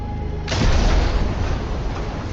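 A single torpedo strikes a wartime transport ship carrying troops, bursting into a loud, deep boom that swells and then rumbles on steadily, with no voices over it.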